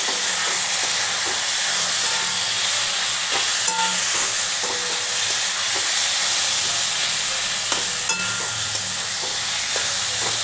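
Steady sizzling and frying hiss from bottle gourd cooking in a pan for a vegetarian coconut dish with ginger paste, with occasional soft stirring scrapes; continuous and close, no talking.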